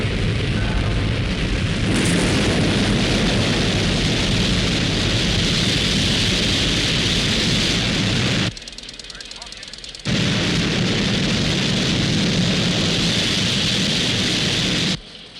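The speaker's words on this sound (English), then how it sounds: "We have liftoff." A loud, dense rocket liftoff roar from a 1970s TV sound effect, a sustained crackling rumble that cuts out briefly, returns with the same force, and drops away at the end.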